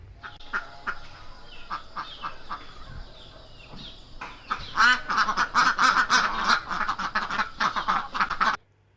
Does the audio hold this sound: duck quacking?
yes